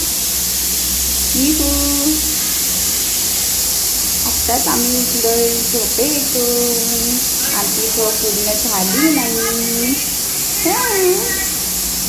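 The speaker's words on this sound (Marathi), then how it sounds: "मागे किचनमध्ये कि कुकरचा आवाज येतोय" A constant hiss of steam from a pressure cooker in a kitchen runs in the background while people talk in the foreground.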